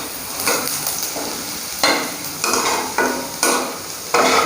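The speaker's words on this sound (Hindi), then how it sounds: "इसको हल्का सा रॉ स्मेल जाने तक पकाऊंगी" Chopped garlic and ginger fry in a pan, an even sizzle broken by a series of sharp spatula scrapes and knocks at irregular intervals, close and loud with no talking.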